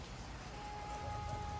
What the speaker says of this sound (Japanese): めっちゃ雨。